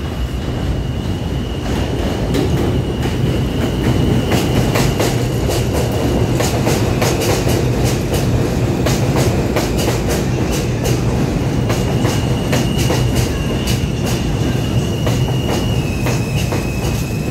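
J, M and Z subway trains roll through Myrtle Ave Broadway station in New York, a loud, steady rumble with rapid clickety-clack wheel beats and a sustained high wheel squeal, no voices.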